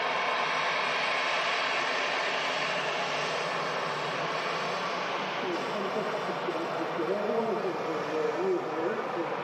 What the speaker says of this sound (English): Dreamliner from Jeddah